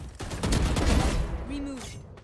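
Bursts of video-game gunfire rattle through a short stretch, loud and close, mixed with game noise and followed by a brief tonal effect.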